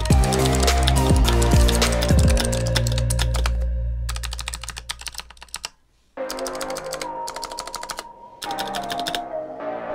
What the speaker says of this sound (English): just so you guys can hear how this new switch sounds for yourselves,